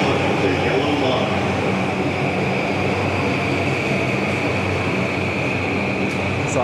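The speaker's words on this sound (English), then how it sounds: "Train bound for Tokyo and Shinagawa will soon arrive on track number 3" A train pulling into a platform at Ueno Station in Japan, a steady loud rumble of wheels and rail noise with a sustained hum, continuous throughout with station ambience around it.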